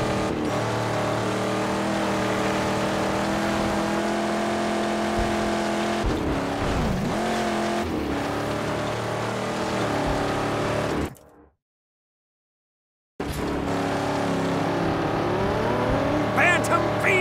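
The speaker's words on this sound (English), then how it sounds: "Bantam V6, huh? Listen to it!" Bantam V6 engine in the Mad Max video game revving and droning loudly and steadily, cutting out abruptly into silence for about two seconds before roaring back, with a voice talking over it.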